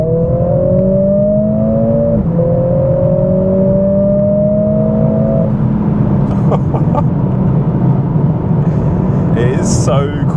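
Mercedes CLA45 with a 420 HP engine pulling hard in race mode, a loud, sustained engine note climbing through gears with brief shift breaks, heard from inside the car with faint cabin noises near the end.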